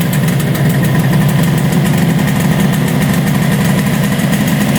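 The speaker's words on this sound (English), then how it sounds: "Listen to that idle. It is perfect." A 1966 motorcycle engine idles steadily and loudly up close, an even rapid pulsing rumble that holds without pause.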